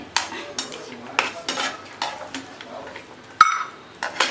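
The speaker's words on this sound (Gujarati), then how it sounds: "આપણે હલાવતા જઈશું માત્ર ને માત્ર હવામાં રહેલો ભેજ દૂર થાય એટલા જ આપણે તેલમાં કાજુને ફ્રાય કરવાના છે" Cashews being stirred as they fry in oil for Kathiyawadi kaju gathiya, heard as a run of close, sharp scraping clinks of a spoon against a metal pan at an uneven rhythm.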